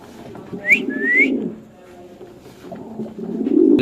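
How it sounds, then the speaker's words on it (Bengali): Pigeons at a busy pigeon market, two clear whistling calls up front over a low murmuring coo that rises again near the end, with faint chatter in the background. "ভাই রেয়ার কবুতর আনছেন নাকি"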